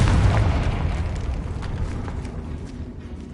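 Confringo blasting spell in Hogwarts Legacy on PS5 bursts with a heavy, loud boom that opens the moment and then rumbles and decays with scattered crackling debris.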